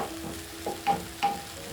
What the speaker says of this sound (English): Next, I'll be adding my garlic and ginger paste.